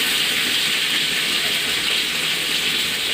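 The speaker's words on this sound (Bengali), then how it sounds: "তেলের উপর আমি দিয়ে দিচ্ছি এই একটা তেজপাতা দিয়ে দিচ্ছি" A bay leaf dropped into hot oil in a home kitchen pan gives an unbroken, even hiss of frying, close and fairly loud, with no voices heard.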